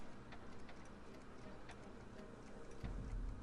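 A clock ticks steadily in Back to the Future: The Game, its even, regular clicks sitting over a low background hum, with a deeper rumble rising near the end.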